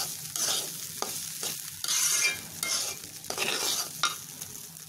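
Rice with yogurt, ginger paste and cumin being stirred in a pot for hilsa biryani, a loud close sizzle broken by repeated scraping strokes of a spoon, no voices.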